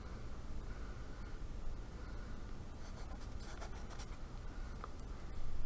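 A pencil scratches across paper close to the microphone, soft and quiet over a hissy background, with scattered strokes and a busier burst of scratching partway through. No one speaks.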